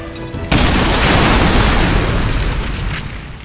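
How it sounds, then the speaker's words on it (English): A tank explodes in the video game XCOM 2 with a sudden loud boom, followed by a sustained roaring blast and crackling debris that slowly fades over a few seconds. "You weren't kidding when you said those tanks could explode."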